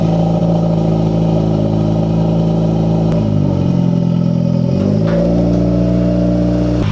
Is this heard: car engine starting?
yes